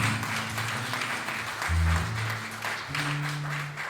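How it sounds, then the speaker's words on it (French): Applause and cheering at a religious wedding ceremony, welcoming evangelist Janine, a steady crowd roar lasting throughout with tonal music or singing layered over it. "on acclame très fort pour la gloire de notre Seigneur Jésus"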